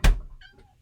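A house cat named Atticus, hungry before feeding, lets out a single short, loud meow at close range, with a dull thunk at the start and a faint trailing sound after.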